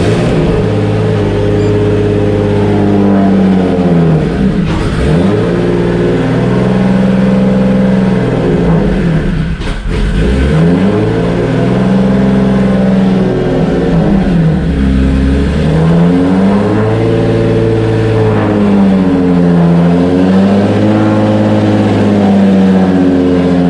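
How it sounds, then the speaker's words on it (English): Turbo Nissan 350Z engine running in a small garage, loud and close, revved repeatedly in rising and falling swells over a steady rumble. "She always looks at me when I start my car."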